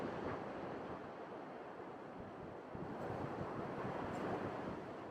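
Waves and gusting wind on a beach on a stormy, blustery day, a constant broadband rush of surf and wind buffeting, fairly faint and steady throughout with no voices.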